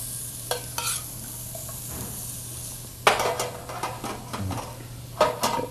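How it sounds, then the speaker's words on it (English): Diced yellow onions sauté in a pan for a barley tomato pilaf, giving a steady sizzle under repeated scraping stirs and a few louder clinks of utensil against pan, no voices. "I'm gonna add the onions so you guys will know."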